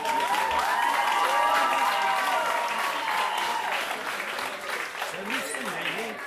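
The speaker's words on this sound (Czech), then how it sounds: "Velký potlesk." An audience at a folk dance event applauds a dancer, a broad steady wash of clapping with some crowd murmur, while a voice talks over it and fades near the end.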